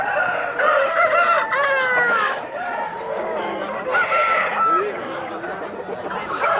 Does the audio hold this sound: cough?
no